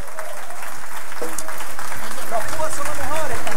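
Festival crowd applauding a band at an olive oil fair, a loud rising spread of clapping with voices and cheers mixed in, building steadily in volume toward the end.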